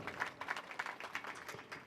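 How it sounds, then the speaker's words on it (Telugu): Audience at a public gathering applauding an MLA, a faint, brief patter of scattered hand claps at a distance. "మీరందరూ కూడా ఒక్కసారి చప్పట్లతోటి ఎమ్మెల్యే గారికి అభినందించాలి"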